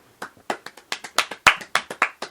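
Several people clap their hands in a quick, uneven burst of sharp claps, close and loud, during a podcast in Quebec French.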